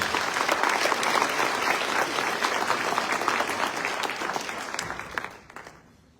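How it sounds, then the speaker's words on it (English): A townhall audience claps in a full round of applause, a dense, steady patter of many hands that gradually thins and fades out near the end. "Let's give Gabe a round of applause."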